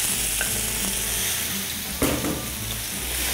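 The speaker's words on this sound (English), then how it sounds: "fry it up and make sure it doesn't clump together, because you want the mince to kind of stand apart as it is" Mutton mince frying and being stirred in a pan, a constant crackling sizzle with scraping stirs, including a sharper knock of the utensil partway through.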